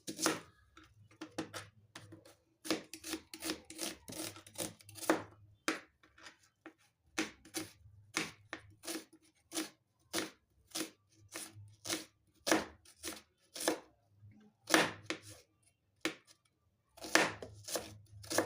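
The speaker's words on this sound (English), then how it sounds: "So let's start by chopping our onion." A knife chops an onion rapidly on a cutting board, crisp repeated strikes in uneven bursts with brief pauses, close and clear.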